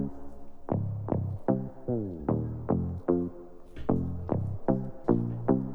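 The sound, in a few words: bass line in a beat's intro, played in Ableton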